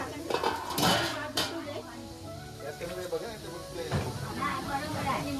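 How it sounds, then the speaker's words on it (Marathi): A metal lid clanks onto a pan of onions frying with salt. A few sharp clinks and clatters ring over a soft steady sizzle while people talk throughout. "आणि त्याच्यावर आम्ही आता झाकण ठेवणार आहोत."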